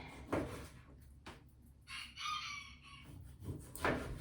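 A rooster crows a few times in the background, moderately loud, in a quiet outdoor setting near a kitchen where pork in salsa verde is being prepared.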